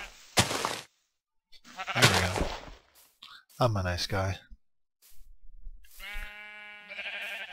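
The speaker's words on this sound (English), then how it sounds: "Sheep. Everywhere. One of Minecraft's most common of all mobs." Sheep in the Minecraft video game bleat in short electronic bursts near the end, following a stretch where someone talks casually over game sounds.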